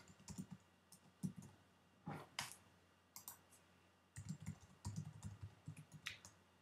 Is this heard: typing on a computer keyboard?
yes